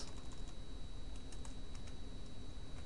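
Light, quick keystrokes tap on a computer keyboard at close range, a faint patter over a steady background hum.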